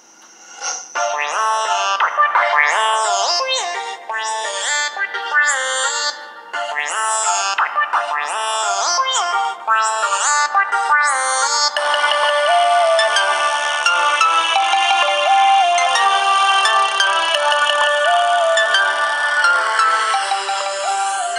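A bright electronic ringtone melody plays through a Samsung Galaxy S4 phone speaker, bouncy repeating notes at first, then a denser sustained jingle, loud and close.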